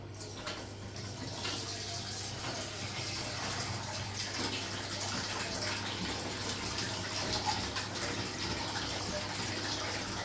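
An automatic washing machine drawing water from a barrel rather than a mains connection, giving a steady rushing fill that runs continuously at moderate level over a constant low machine hum.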